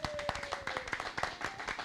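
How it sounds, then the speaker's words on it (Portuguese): A small group claps by hand at the close of a Portuguese-language podcast episode, sharp uneven claps close by for about two seconds, with a thin steady tone running underneath. "Quero uma salva de palmas, por favor."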